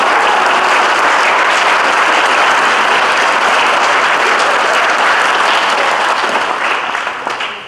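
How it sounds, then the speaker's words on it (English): A large audience at an 8th grade awards ceremony claps and cheers in sustained, dense applause that holds steady, then begins to thin out at the end. "So give a round of applause,"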